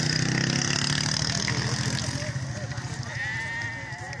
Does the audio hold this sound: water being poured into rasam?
no